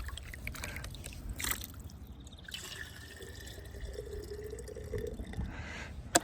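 Water sloshing and dripping as quartz dust is swirled in a gold pan, with irregular splashes and trickles close by, loudest near the start and the end.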